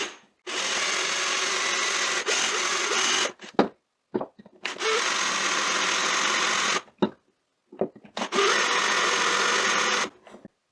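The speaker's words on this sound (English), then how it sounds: "it is hard to control how much I drill into the end of the wooden rod" A power drill bores into the end of a wooden dowel rod in three long, loud, steady whirring bursts, with brief pauses and clicks between them.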